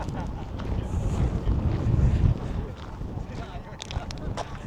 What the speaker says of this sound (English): there is so much wind